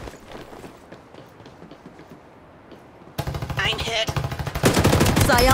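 Rapid bursts of psionic gun fire from the battle royale video game Farlight 84 start midway and grow louder, loud close rattling volleys following a quieter stretch of background game sound.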